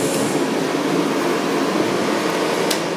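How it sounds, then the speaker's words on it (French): A steam boiler burner restarting its start-up cycle gives off a steady, loud, broadband roar that holds even for three seconds, with no talk over it. "il va refaire un cycle de démarrage"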